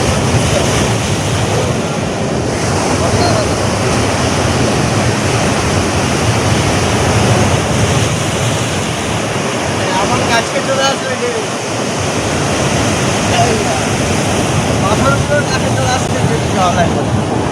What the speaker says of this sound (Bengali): জল এসে যাচ্ছে দেখতে পাচ্ছেন এমন উত্তাল সমুদ্র দেখার